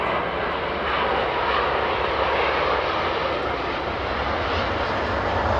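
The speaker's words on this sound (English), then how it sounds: "it's 777, but it's BA though, so can't expect a lot of noise from this one" A British Airways Boeing 777 with Rolls-Royce Trent engines roars steadily on departure from Heathrow, a loud, constant broadband rumble that does not fade.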